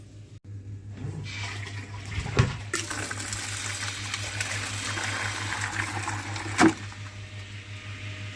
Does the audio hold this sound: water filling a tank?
yes